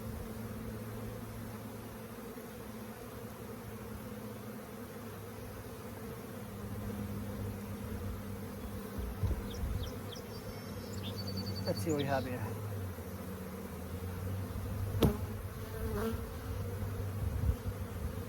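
Constant dense buzzing of many honeybees close by at an open hive during a colony split, with a voice speaking briefly and a few faint knocks and clicks.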